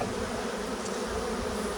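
Honey bees buzzing continuously around a hive in spring, a soft steady drone of many wings circling landing boards at close range with no voices.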